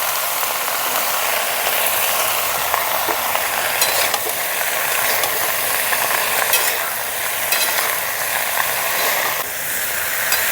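Small river fish cooking in a village-style pan with turmeric and salt give off a constant loud sizzle, while a utensil scrapes and clatters against the pan as the mixture is stirred.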